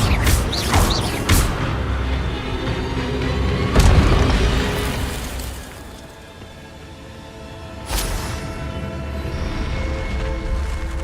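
Spell-casting blasts from the Incendio fire spell in Hogwarts Legacy, heard as several loud booming bursts with roaring fiery whooshes, one big hit near the middle and another later, over continuous game ambience.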